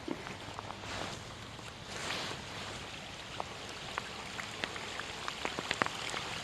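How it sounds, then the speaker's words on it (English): Rain patters at a creek during a fishing outing, a steady broadband hiss with scattered sharper drop ticks that grow denser toward the end, with no talking. "I can hear the rain coming."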